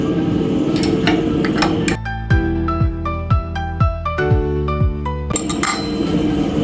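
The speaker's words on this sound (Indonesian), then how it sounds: "kita bisa membongkar kayu yang telah jadi, telah diukir dengan menggunakan kunci yang tadi nomor 10 dan nomor 12" A string of sharp metallic clinks and ticks from size 10 and 12 wrenches loosening bolts to remove a carved wood piece from a CNC machine, roughly rhythmic and close, with a faint steady hum behind them.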